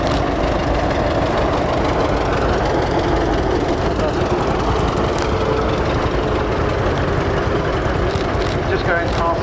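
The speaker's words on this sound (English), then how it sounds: "Just going past me now, this Fordson Major Diesel." A Fordson Major diesel tractor in Essex blue livery passes at a vintage farming rally, its low, knocking engine drone steady and close throughout, with a busy outdoor crowd in the background.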